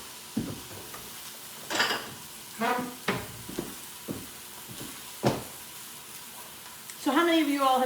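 Eggplant slices laid into a hot pan, giving a steady low sizzle with scattered scrapes and clatter from a long spatula, while a voice talks intermittently over it.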